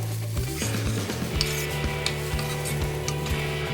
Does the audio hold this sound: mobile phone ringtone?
no